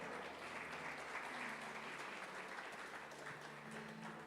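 A church congregation at a Sunday service applauds in praise of the Lord, a sustained, even roar of many hands clapping with no pause.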